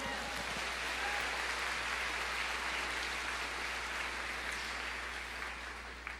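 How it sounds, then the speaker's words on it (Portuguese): A church congregation applauds during a Portuguese-language sermon, a steady, fairly faint wash of clapping heard from a distance over a low hum. "Você pode aplaudir o Senhor?"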